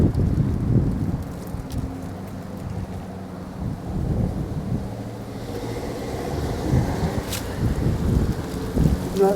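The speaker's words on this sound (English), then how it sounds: "Back into the wind, I'm afraid, but I'll try to protect the microphone." Wind buffets the microphone on a walking tour through the Hydrostone neighbourhood of Halifax, a continuous low rumbling roar that swells and gusts throughout with no voices.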